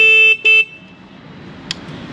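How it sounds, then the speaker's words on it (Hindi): Two short, loud horn honks close by from a 2022 KTM RC 200 motorcycle, a brief toot then a second beep, followed by a quiet idling background. "तो साउंड काफ़ी तगड़ा है इसका हॉर्न"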